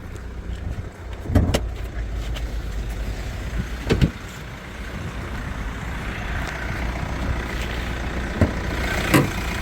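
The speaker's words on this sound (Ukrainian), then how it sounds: "Завівся автомобіль, опускаємо вікна, відкриваємо підкапотне." A used crossover idles steadily at a car market while its power windows are lowered, a low engine hum running throughout with a few sharp clunks and whirs standing out above it.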